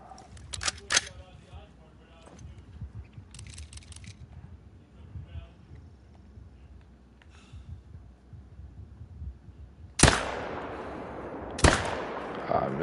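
Gunshots from a video game hunting mule deer: two loud, sharp broadband blasts near the end, about a second and a half apart, each followed by a lingering tail, after a stretch of quieter background sound with a few fainter clicks.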